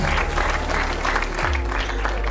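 Wedding guests clapping together in a loud, sustained round of applause that fills the room, with a low musical drone underneath.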